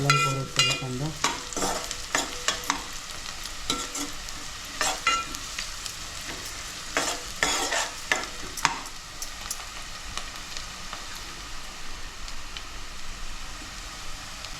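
Onions fry in a pan for an Agri Malvani crab bharta while being stirred, giving a steady close sizzle broken by repeated scraping strokes of the spoon.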